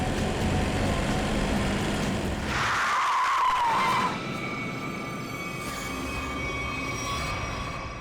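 A car brakes hard and its tyres skid loudly for a few seconds on a road, nearly striking a pedestrian, then the engine settles into a steady idle hum.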